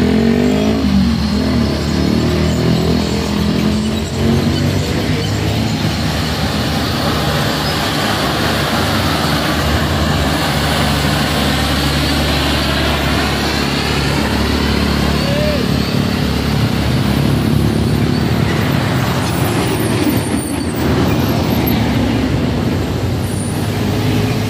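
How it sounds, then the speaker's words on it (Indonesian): A truck that failed to climb a slope tries again, its engine droning and straining in a long, loud, steady roar with rising revs, heard outdoors with people talking nearby. "Truk yang gagal nanjak tadi dicoba lagi nanjak ya."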